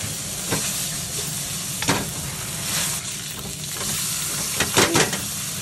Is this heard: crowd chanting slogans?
no